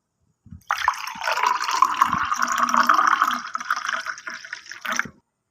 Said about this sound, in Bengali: এবার আমি ঠান্ডা জল দিয়ে দেবো